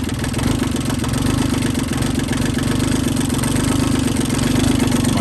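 An old diesel tractor idles just after a cold start, its low, steady clatter loping slightly, close and continuous with no talk.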